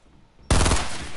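Fortnite gunfire: a sudden, loud burst of rapid shots that begins after a brief quiet moment and keeps rattling to the end.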